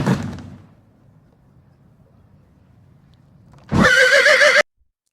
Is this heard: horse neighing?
yes